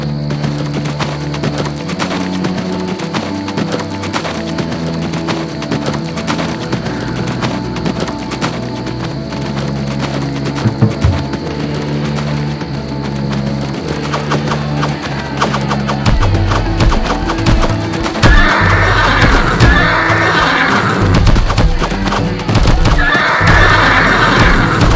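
Horses whinny and hooves clatter amid the clash of chariots and mounted raiders riding into battle in the strategy game Empire Earth, a dense, continuous din that swells louder toward the end.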